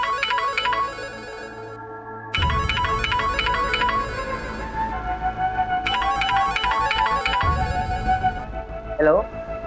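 A phone rings with a repeating electronic tone pattern in two bursts, under background music and voices in a Hindi TV drama scene.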